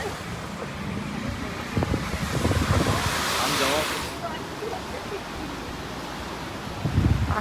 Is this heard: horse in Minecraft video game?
no